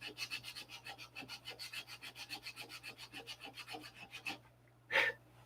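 Steady back-and-forth sanding strokes on a painted model, close and fairly quiet, with a low constant hum underneath, ending in a brief louder scrape.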